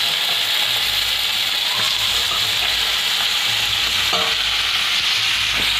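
Chicken being stirred into ginger-garlic paste in a hot pan, with steady sizzling and scraping of a spoon against the metal, close and continuous, no voices.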